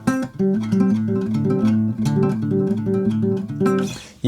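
A short, bright guitar pattern picked quickly across a few high strings, played close and clear, ending with a brief scrape.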